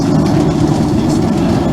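Video game train rolling along rails, a steady loud low rumble with faint rhythmic clatter running continuously throughout, no voices.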